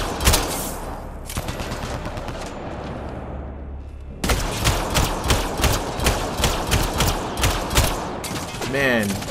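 Enemies fire at allies in the video game Mass Effect Andromeda, producing dense, rapid volleys of gunshots that pick up after a brief lull and keep going as steady bursts, with game sounds underneath.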